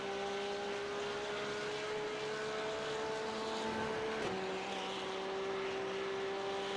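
Race cars lapping Bathurst in a sim racing league, a steady high engine drone holding one pitch, briefly dipping as a gear changes, then settling back, with no one talking.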